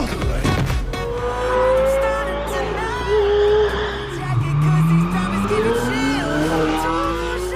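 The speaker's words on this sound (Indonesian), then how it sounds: "Mason langsung menyalakan mobil dan merasa sangat terkesan dengan suara dari mesin monsternya." A monster car's powerful engine roars in a film scene, a heavy, continuous rumble whose revs rise and fall, with voices talking over it.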